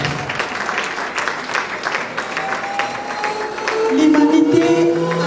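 A crowd at an International Women's Day celebration in Ottawa applauds in a broad, steady patter, with cheers and whoops swelling toward the end.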